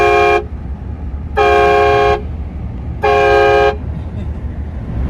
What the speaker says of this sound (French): Petit coup de klaxon.